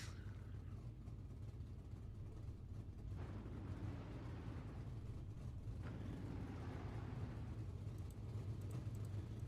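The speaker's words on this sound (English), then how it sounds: "Cars are on track." Super late model race cars on a Volusia dirt track produce a faint, distant, continuous engine roar with low rumble and occasional swells, heard without talk.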